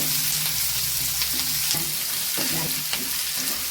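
Garlic and small shallots fry in a pan for a curry-leaf kuzhambu, a steady loud sizzle throughout with occasional stirring scrapes and no talk.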